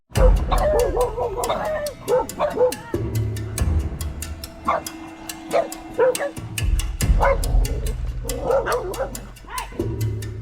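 Several dogs bark in excited, repeated bursts at javelinas that wandered out of the woods, loud and close, with yips and whimpers between volleys.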